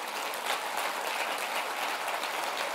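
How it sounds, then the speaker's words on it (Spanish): A church congregation at a teaching session applauds steadily, a constant hiss-like wash of many hands at moderate level with no breaks. "Denle un aplauso bien fuerte al rey."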